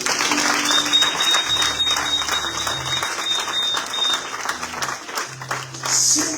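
Church congregation applauding to acclaim the Lord, a sustained, steady wash of many hands clapping that fills the space throughout, with a few voices mixed in under it.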